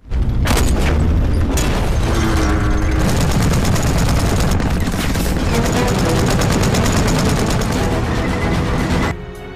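Dense battle gunfire with heavy booms and rapid machine-gun bursts as Soviet soldiers fight German tanks in a war film, loud and continuous for nearly ten seconds.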